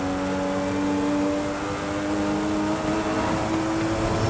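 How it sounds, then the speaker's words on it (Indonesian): Toyota Supra engine in Forza Horizon 5, a steady, loud droning hum with sustained tonal layers, holding at constant revs throughout with no talk over it. "Teori mendengar suara mesin Supra, guys."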